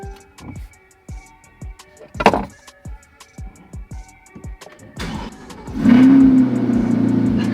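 A 2020 C8 mid-engine Corvette first clicks and whirs through a series of sharp mechanical ticks and brief electric whines, then its engine fires near the end and settles into a loud, steady rumble.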